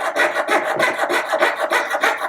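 A fret saw cuts an eye shape out of a plastic spectacle frame in a workshop making hand-crafted glasses. Quick, even rasping strokes repeat about four times a second, close and clear, with no voices.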